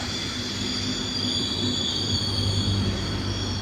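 A Frecciarossa high-speed train rushing past close by a station platform, a steady loud roar with faint wheel squeal and a low rumble, no talking.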